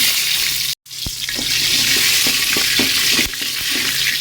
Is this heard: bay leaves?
yes